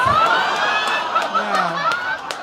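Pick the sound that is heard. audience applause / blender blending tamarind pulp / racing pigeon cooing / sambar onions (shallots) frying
audience applause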